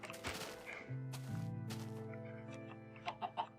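A Minecraft chicken gives a few clucks, close and clear, followed by short clicking thumps from game actions near the end.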